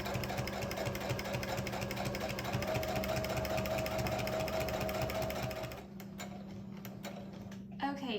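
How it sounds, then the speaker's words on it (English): A sewing machine stitches quilt fabric along a straight line, a steady close whirring with fast mechanical ticking that runs continuously before slowing and easing off near the end. "I will go ahead and sew all the way along that line."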